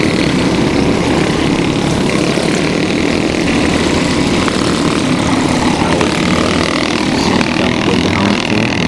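A loud, steady engine roar drones throughout without a break, dense and buzzing, several twin-engine go-karts racing flat out close by on a backyard track.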